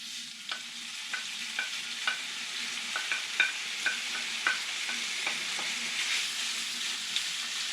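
Beef heart browning in olive oil in a pan, a steady close sizzle with repeated light scrapes and stirring clicks from a utensil, no talking.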